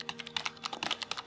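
Quick, light keystrokes on a computer keyboard come in an irregular patter, close and fairly faint, over a soft low hum with no talk.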